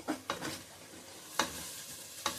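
Chili powder dropped into hot oil tempering for a goat head curry sizzles steadily up close, with a few sharp stirring clatters breaking through the frying hiss.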